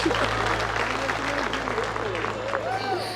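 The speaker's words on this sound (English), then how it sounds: "Big round of applause." Audience applause fills a restaurant dining room after a marriage proposal during a couples' dinner service, steady clapping under murmured voices and a whistle-like cheer, sustained throughout.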